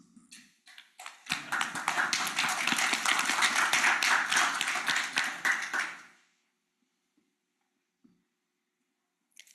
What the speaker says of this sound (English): we should all really applaud ourselves for that